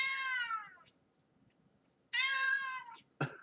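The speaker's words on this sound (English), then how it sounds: "This is what cats sound like." A domestic cat meowing, played back through a phone assistant: two long, drawn-out, harmonic meows separated by a pause, then a brief sharp start of another, with no talk over them.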